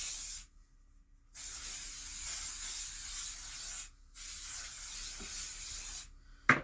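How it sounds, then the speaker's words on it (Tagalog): Aerosol spray can sprayed in repeated long bursts, a loud steady hiss lasting a few seconds each, split by short silent pauses, with a brief clatter near the end. "Kailangan natin mag-spray."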